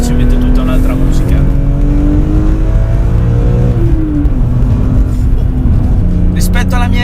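BMW M3 E46 engine revving with a metallic, sustained roar close by, pitch rising and dipping through the clip, while someone talks over it.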